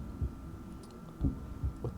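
Heartbeat sound effect in a golf video game, a low muffled thump repeating about three times in a slow, irregular rhythm over a faint steady hum.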